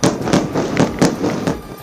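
Repeated sharp blasts from Israeli strikes on Hezbollah positions in Lebanon, several bangs in rapid succession, loud and close with a rumbling background.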